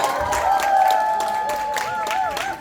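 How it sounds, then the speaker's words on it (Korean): An audience at a product and business presentation applauds as a speaker is welcomed to the stage, a brief burst of scattered claps over sustained tones of background music, lasting under three seconds. "첫강이니까 더 열정적으로 큰 박수!"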